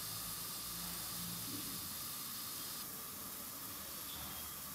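Filtered date syrup boiling again over a fire, a constant dense hiss and bubbling that holds steady throughout without pause, faint and with no talk.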